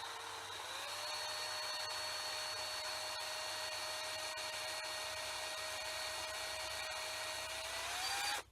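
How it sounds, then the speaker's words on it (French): A small drill bores 2.5 mm holes in a watering can rose, giving one steady, quiet whine that holds for several seconds, with no talking. "Et on va percer des trous ici."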